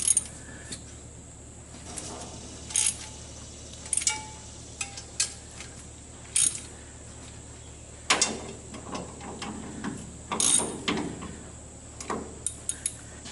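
A ratchet tightens header bolts on a 1962 Comet in short, quiet bursts of rapid clicking separated by pauses, heard close up with no talk.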